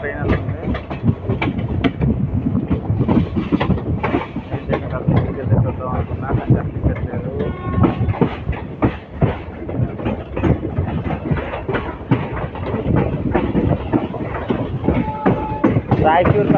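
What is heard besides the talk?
Raichur Parbhani Express train passing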